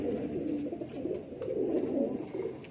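Faqeer Gul pigeons, including a nine-year-old breeder bird, coo in a steady, low, throaty murmur, close and continuous throughout, with overlapping calls and no talking.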